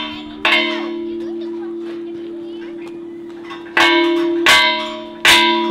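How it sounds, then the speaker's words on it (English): A church bell rings in Bohol, struck a few times with a single clang, a pause, then two quick strikes near the end, its tone humming steadily between hits while children's voices sound faintly nearby. "You can ring the bell because it's your first time."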